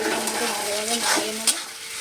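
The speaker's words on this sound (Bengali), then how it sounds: "এবার এটা ভালোভাবে তেলের মধ্যে ভালোভাবে নাড়িয়ে নেব" Taro greens being stirred in hot oil in a home kitchen, a steady sizzle and frying crackle with scraping of a utensil against the pan, and a brief sharp clink near the end.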